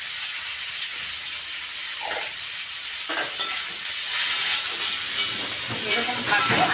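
Chopped onions with a little salt and green chillies fry in a pan, giving a steady sizzle with occasional stirring scrapes and bursts, close and alone.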